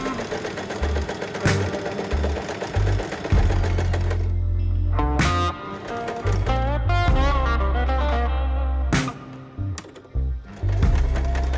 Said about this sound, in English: I'm just stitching those together so I can form one length.